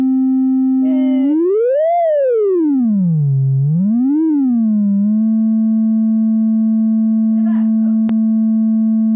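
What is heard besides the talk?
single droning synthesized sine wave tone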